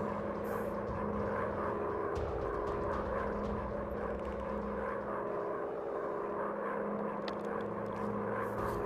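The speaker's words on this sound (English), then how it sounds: "flying aircraft." A World War I fighter plane drones steadily through the sky in the War Planes video game, with a continuous, even propeller engine whir that holds at moderate loudness throughout.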